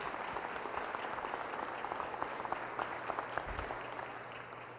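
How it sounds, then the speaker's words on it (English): A crowd at a city public safety awards ceremony keeps up steady applause, a dense even patter of many hands with a few sharper nearby claps standing out, holding at a constant level to the end. "let's give them all a round of applause again"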